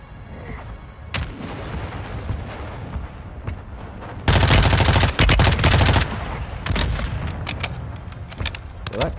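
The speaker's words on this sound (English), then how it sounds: "Requesting fire mission. Target marked. Copy. Mortar strike inbound now" Mortar strike in the tactical shooter Rainbow Six, a loud sustained burst of rapid explosive impacts rising abruptly mid-clip over quieter ambient game sounds and scattered shots.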